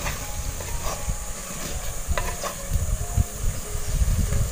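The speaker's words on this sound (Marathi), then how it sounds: "जरा फक्त हलका हलका परतून घेऊया." Eggs and basmati rice, soaked half an hour, gently sautéed in a pan for Sunday egg biryani, giving a steady low sizzle and hiss with soft stirring scrapes throughout, close by and without talk.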